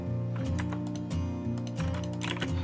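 Keys tap on a computer keyboard during CAD drawing work, a few crisp separate presses with a background tone beneath them and no talk.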